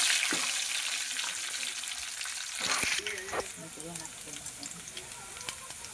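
Garlic cloves sizzling in hot oil as a tempering for a Gujarati gunda bhaji dish, a steady close crackle that swells briefly midway, with a voice talking over it.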